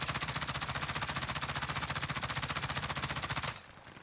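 M13 assault rifle fired in Call of Duty Warzone, one sustained full-auto burst of rapid, evenly spaced shots lasting about three and a half seconds before cutting off.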